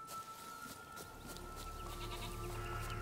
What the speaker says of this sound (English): Or is it just a Billy Goat